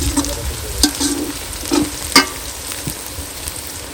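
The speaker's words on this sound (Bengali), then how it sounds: "তেল গরম হয়ে গেছে, এখন আমরা পেঁয়াজটা দিয়ে দেবো।" Onion and spices sizzle steadily in hot oil, with a few sharper crackles and spoon stirs on top.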